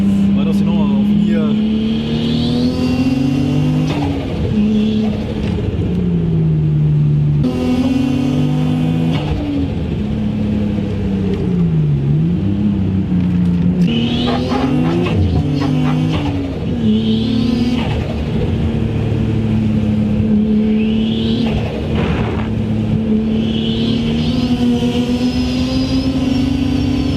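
A Nissan Skyline R33 engine revs and accelerates in repeated loud surges with turbo whistles, heard from inside the car, with people talking over the engine throughout.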